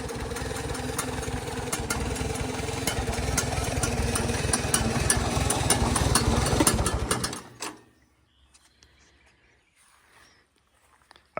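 A 1948 Farmall Super A cultivating tractor idles close by with a steady rhythmic putter and the exhaust flapper fluttering, running evenly for about seven seconds before cutting off into near silence.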